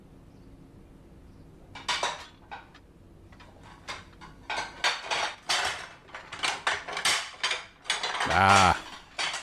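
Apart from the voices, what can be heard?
stacked dirty dishes clattering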